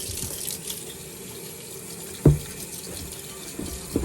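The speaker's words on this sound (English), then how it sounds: "So I'm just going to wash these and get the starch out just with some cold water" Cold water runs from a kitchen tap over sliced potatoes to rinse off the starch before air-frying them into crisps. A steady close splashing stream is broken by a sharper burst of splashing partway through and a few smaller splashes near the end.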